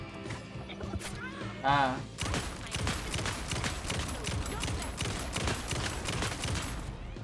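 Sustained, rapid gunfire in the video game Alan Wake 2, a dense barrage of shots lasting several seconds after a brief pause, with a voice talking over the start.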